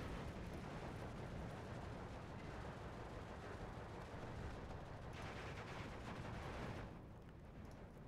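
Sustained heavy gunfire of high-explosive rounds in the Steel Division WWII strategy game, a dense continuous barrage of shots and blasts that runs loud for most of the span before easing slightly near the end, with no talking.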